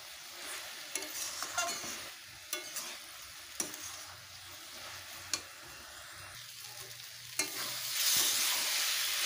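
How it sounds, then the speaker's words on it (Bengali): Chopped bottle gourd is stirred and sautéed in a pan, a steady close sizzle of frying broken by repeated scraping and clinking of a spatula against the pan, with no voices. "লাউটাকে একটু কষবো।"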